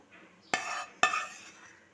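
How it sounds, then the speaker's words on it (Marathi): Crushed chana dal wadis stirred in sugar syrup in a pan, two sharp scraping strokes about half a second apart with a grainy sizzling rustle after each, quiet and close. "चालू गॅसवरती आपल्याला हे थोडंसं परतवून घ्यायचं आहे"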